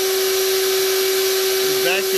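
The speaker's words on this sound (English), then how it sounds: "Another great thing to do is to vacuum out inside here really good." A vacuum cleaner sucks out the inside of a Comfortbilt HP22N pellet stove, giving a loud, steady whooshing drone with a constant motor whine that runs unbroken from start to end.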